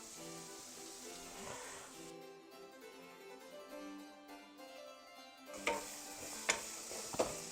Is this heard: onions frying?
yes